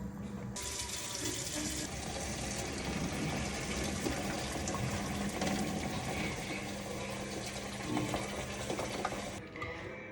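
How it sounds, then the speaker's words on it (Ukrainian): Steady rushing pour of hot water drained from a pot of boiled potatoes into a sink, continuous and fairly loud, with a faint clatter of metal near the end. "5 хвилин прокипіло, зараз будемо зливати."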